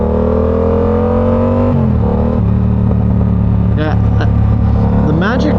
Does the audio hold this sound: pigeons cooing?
no